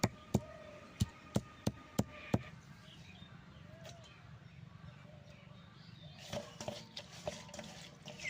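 Agarwood fruit being washed in water, with sharp chopping or tapping knocks in the opening seconds, then a steady wash of running, sloshing water and a few more splashy knocks toward the end.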